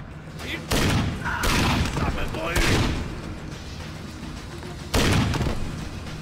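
Heavy gunfire in Splinter Cell: Double Agent, set in New York, with several loud blasts and sustained bursts of shots continuing under booming echoes, and voices speaking amid the action.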